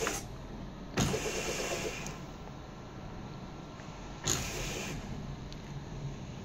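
A Fanatec racing wheel powers up with two brief whirring motor pulses about three seconds apart, close and quiet over a low background hum, with no voices.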